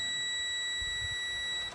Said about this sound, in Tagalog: So meron din tong yan, buzzer, no, or continuity testing